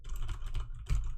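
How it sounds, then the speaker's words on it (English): Fast typing on a mechanical keyboard, a dense run of sharp clicky keystrokes close to the mic, with a louder cluster of key hits near the end and no talk. "It's a mechanical keyboard, that one? Oh, yeah. I mean, you can hear it."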